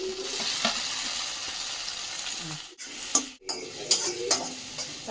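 Tomatoes being stirred and sautéed in a pan for a leftover chapati dish: a continuous close sizzle broken by scraping stirs and a few sharp clinks of a utensil against the pan.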